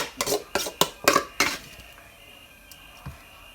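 Red ant egg salad being scooped onto a plate, with a quick run of close clinks and clatters of a spoon against dishware, then quiet with one soft knock near the end.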